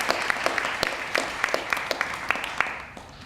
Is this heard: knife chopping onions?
no